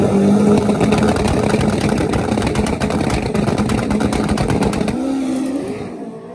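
Turbocharged Hayabusa drag bike making a clean pass in the right-hand lane at a pro street motorcycle drag race, its engine screaming loud and close with rapid rising revs and gear-change steps before fading away.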